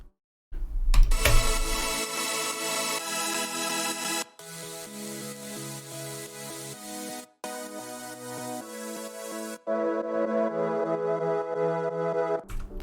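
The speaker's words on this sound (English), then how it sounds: "this is what the layers sound like individually" Progressive house chord layers, synth stacks heard one after another with short breaks between them, each a bright sustained chord pattern, loud and up front with no voice.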